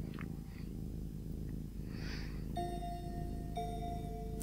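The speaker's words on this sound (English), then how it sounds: "Listen to that, it's purring." A cat purrs in the video game Yume 2kki as a steady low rumbling hum throughout, with a couple of soft chiming game tones ringing out near the end.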